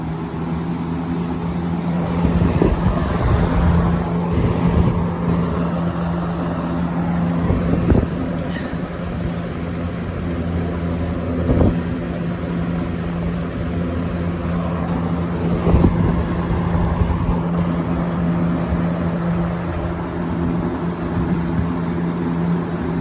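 A vintage Eskimo box fan runs on high speed, giving a steady loud whooshing drone with a constant motor hum and occasional rattles and bumps, close by, with no talking over it.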